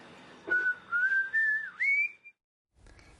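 A person whistles a short rising melody in four sustained phrases, clear and close, then falls silent before a faint rustle.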